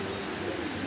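Male magpie pouter pigeon cooing, a low steady coo held throughout against a noisy background, close but modest in level.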